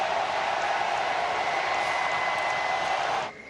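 A hockey arena crowd at an NHL game roars in a dense, sustained wall of cheering and applause that holds steady before cutting off abruptly near the end.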